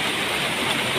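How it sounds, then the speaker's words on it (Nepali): Floodwater from a swollen river surges into a house after a night of torrential rain, a loud, dense, unbroken roar of rushing water close by with no let-up. "हेर घरभित्र पानी त कस्तो उर्लेको है"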